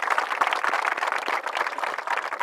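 A crowd claps loudly and steadily at a Bihar Police physical test gathering, the dense patter of many hands sustained without a break and filling the space.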